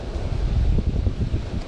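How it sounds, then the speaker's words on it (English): Wind buffets a microphone, producing loud, gusty low rumbling that rises and falls with no other sounds. "Hope it's not too windy for you guys."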